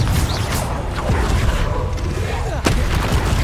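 Confringo blasting spell explosions and combat effects from Hogwarts Legacy, a dense loud mix of booms and crackling impacts, with a sharp blast near the end over continuous game action.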